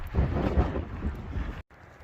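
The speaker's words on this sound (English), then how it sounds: "it is windy" Strong wind roars and buffets the microphone along an Arizona desert trail, a loud continuous rumble with gusts that drops out abruptly for a moment before resuming.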